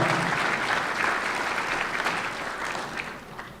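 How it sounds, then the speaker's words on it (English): Community center awards ceremony audience applauding an honoree, a dense, sustained round of clapping from a crowd, fairly loud at first and easing slightly toward the end. "please, a round of applause for Pilar."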